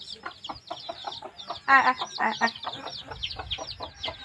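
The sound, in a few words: chickens clucking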